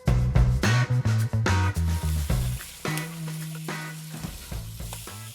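Thick-cut American bacon browning in a pan, sizzling steadily under recurring loud tonal music that dominates much of the clip.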